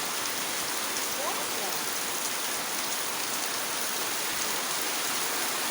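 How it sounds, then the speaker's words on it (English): Heavy December rain shower in Goa, a steady dense hiss of rainfall pouring onto surfaces, constant and enveloping throughout with no pauses. "for something like 15 minutes it's been raining now actually"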